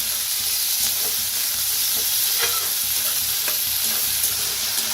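Sliced tomatoes and onion roasting in a pan for a spicy masoor dal and onion curry, giving a steady close sizzle with occasional utensil scrapes and stirs, no voices.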